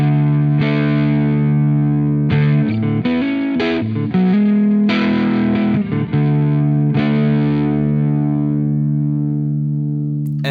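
An electric guitar plays through the Rage of the Karens distortion pedal by Eddie Rifkind Effects, heavily saturated chords and riffs in short bursts, then a long sustained ringing chord to the end, loud and alone.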